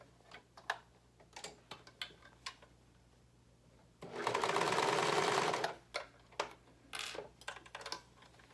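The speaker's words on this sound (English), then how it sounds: "So now what you're gonna do is you are going to serge this edge to attach the sides." A serger stitches along a fabric edge in one fast, buzzing burst of about two seconds, framed by scattered clicks and taps of handling fabric, close in a quiet room.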